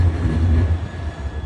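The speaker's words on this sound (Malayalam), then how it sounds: "ആ ട്രെയിൻ പോയി, അടുത്ത ട്രെയിൻ വരട്ടെ കേട്ടോ" A train moving through a railway station, a steady loud low rumble with rolling wheel noise and a faint high whine, continuous and close with no voices.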